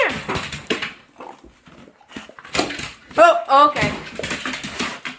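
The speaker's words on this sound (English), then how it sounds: "Okay, this is my dog." An excited dog lets out high, wavering whimpers and whines, most clearly in a short burst partway through, while a person talks over and around the sounds.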